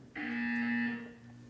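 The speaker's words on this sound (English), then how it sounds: "When you hear the buzzer, look up at the ceiling." A single buzzer from the video game Portal sounds for about a second, a flat, harsh electronic tone that starts abruptly, holds steady and fades out, with no talking.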